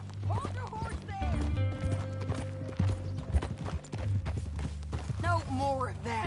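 Horse hooves clip-clop steadily in the Western video game Red Dead Redemption 2, accompanied by a horse's whinny and in-game characters talking over the rhythmic hoofbeats.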